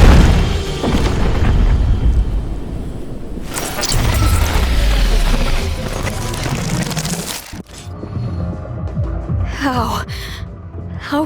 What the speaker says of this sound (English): Where did this explosion come from?